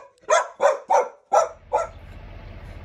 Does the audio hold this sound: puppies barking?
yes